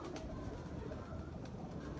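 Soft, low cooing of pigeons close by over a steady, muffled ambient rumble.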